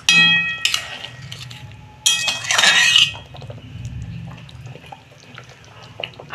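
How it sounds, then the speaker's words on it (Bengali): A metal lid is lifted off a pot of simmering fish curry with potatoes, giving clinks and a rush of bubbling, hissing sound, then quieter kitchen clatter. "আমি ঢাকনাটা একটু খুলছি।"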